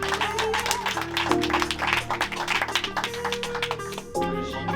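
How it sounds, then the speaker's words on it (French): An audience applauds a guitarist at a concert at Cancan Pigalle, a dense, steady clatter of clapping over sustained instrumental music that plays throughout. "On l'a déjà applaudi une fois mais on peut l'applaudir 10 fois."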